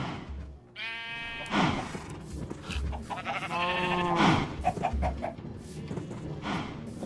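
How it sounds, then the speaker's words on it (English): Sheep bleat in the video game Minecraft, with two or three distinct wavering calls over soft background ambience. "Stupid sheep."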